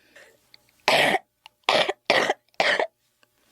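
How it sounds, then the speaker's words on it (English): Four harsh, wet coughs come in quick succession, close and loud, separated by short silent gaps. "that sounds like a nasty cough"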